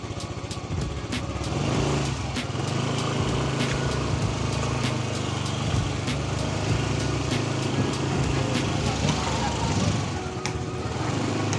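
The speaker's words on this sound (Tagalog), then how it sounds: "test run natin, we'll see kung maririnig pa rin natin yung parang kalansing." A Rusi Adventure X 150i scooter engine runs continuously up close on a test run, with a steady buzzing drone, small rattly ticks and slight rises in pitch, while a voice talks over it.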